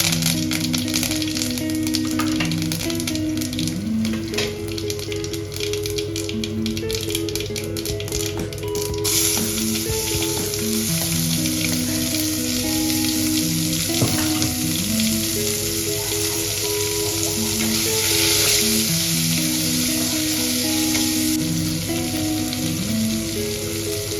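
Mustard seeds and curry leaves fry in hot oil for an Indian fish curry, a loud continuous sizzle with sharp crackles and pops, and faint tonal background sounds running underneath.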